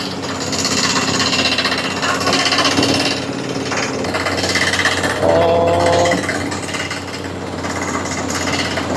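A large pneumatic well-drilling machine hammers loudly and continuously nearby, a rapid, rattling pounding with a steady mechanical drone underneath.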